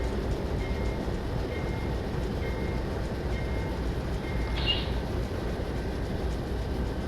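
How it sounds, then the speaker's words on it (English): A steady, dense rumble of a GE Dash 9 diesel locomotive coasting and slowing without throttle in a video game, with a faint brief squeal midway and no sharp changes in level. "Safely coasting through marker 29 as the engine slows"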